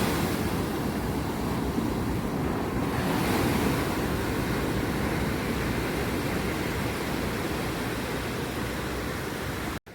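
Sea waves wash onto the shore in a continuous, loud roaring surf with gusty wind mixed in, heard close and unbroken without any talk.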